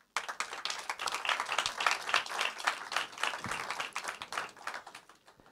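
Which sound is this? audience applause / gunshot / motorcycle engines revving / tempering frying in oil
audience applause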